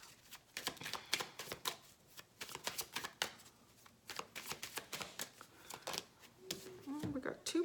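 Tarot cards are shuffled close by in quick riffling bursts and soft slaps, a busy papery rhythm of repeated strokes under a quiet voice speaking.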